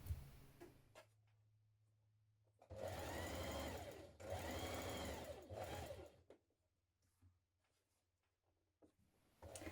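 A sewing machine stitches a dress seam in two close, steady bursts of running, with quiet pauses before and after.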